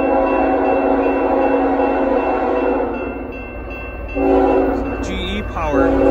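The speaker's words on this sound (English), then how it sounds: "Looks like we have a intermodal freight." A CN northbound intermodal freight train with GE power rolls through Allenton, Wisconsin, its steady loud rumble of passing cars carrying on throughout as a chord horn sounds near the end.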